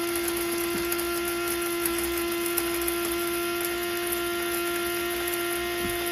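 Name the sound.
grinder grinding dehydrated food into powder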